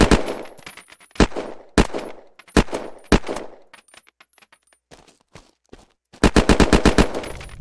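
A Honey Badger-style rifle in the game Unturned fires several single loud shots with ringing tails, then quieter clicks and spaced shots, ending with a rapid close burst of automatic fire.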